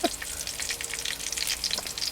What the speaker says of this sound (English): Big old fry up. Big old bacon, eggs, sausage, black pudding, beans, tomatoes, mushrooms.